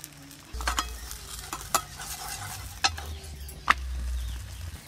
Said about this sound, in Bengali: আজকে ননস্টিকের এই তাওয়াটায় পরোটা ভাজা করব।